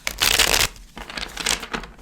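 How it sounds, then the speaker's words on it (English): A deck of tarot cards is shuffled by hand in two quick rustling bursts, close and fairly loud, with no talking. "I shuffled very thoroughly some of the similar cards"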